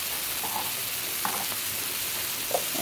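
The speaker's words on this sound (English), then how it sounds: "Now we're going to add our green pepper." Chopped green pepper sizzles in a hot pan for a breakfast casserole, a steady close frying hiss with a few faint stirring scrapes and no talking.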